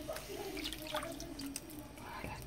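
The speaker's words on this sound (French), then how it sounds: "nous avons ici un bol de bouillon de volaille fait maison. On rajoute et on mélange tout de suite." Homemade poultry broth poured into a flour-thickened sauce, a soft watery splash and trickle running a couple of seconds, fairly faint, with faint background sounds.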